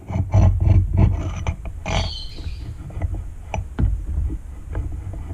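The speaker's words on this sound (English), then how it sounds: "it can actually grind on this bearing" A cam from a homemade paramotor is pressed down and spun by hand so it grinds against a bearing, producing a loud rough rumbling scrape that surges and fades in uneven waves, close up.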